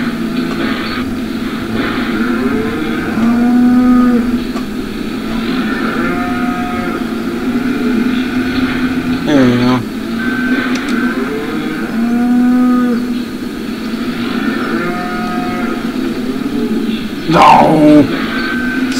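Cattle moo repeatedly outdoors on a farm, loud and close, with long drawn-out calls at a steady pace and a few sharper bellows in between.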